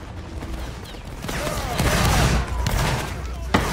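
A volley of musket fire in a Napoleonic Wars battle game rolls out as dense overlapping cracks and booms that swell and fade, with a sharp late shot near the end.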